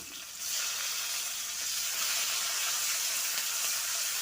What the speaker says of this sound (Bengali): ওই একই তেলে আমি দিয়ে দিচ্ছি 3টে তেজপাতা, গোটা গরম মশলা, একটু সাদা জিরে, আর দিয়ে দিচ্ছি কিছুটা পেঁয়াজ।